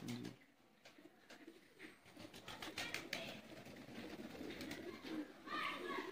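Kamagar pigeons, with a champion male among them, coo softly in low rolling phrases, mixed with scattered rustles, taps and faint background noise.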